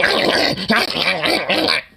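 A Chihuahua growls and yaps loudly and up close in a continuous, harsh snarling stream broken by brief gaps, with no speech.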